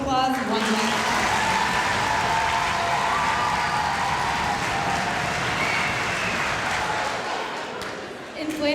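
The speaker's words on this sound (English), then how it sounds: "Let's give our veterans a round of applause one last time." Sustained audience applause fills a school auditorium at a middle school Veterans Day program, a dense steady wash of many hands clapping that holds loud for about eight seconds before tapering slightly at the end.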